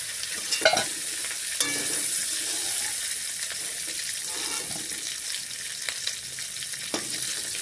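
Prawns fry in a pan with a continuous close sizzle, broken by a few sharp stirring scrapes and clicks as the pieces are moved; no talking.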